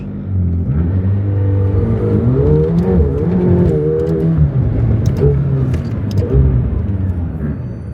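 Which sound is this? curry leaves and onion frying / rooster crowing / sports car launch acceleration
sports car launch acceleration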